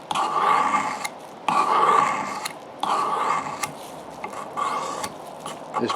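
An old vintage knife blade is drawn repeatedly across a sharpener, each long rasping stroke lasting about a second with short pauses between, close and steady with no speech.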